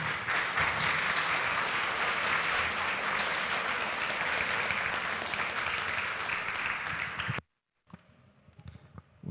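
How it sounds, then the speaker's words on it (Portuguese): Congregation applause at an Adventist church service, sustained dense clapping filling the room for about seven seconds, then cutting off abruptly to near silence with faint room noise. "Podemos aplaudir-os?"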